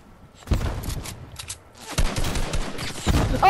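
Gunfire in Fortnite gameplay: three loud bursts of shots, each lasting under a second, spread across a few seconds, with game noise between them and no talk.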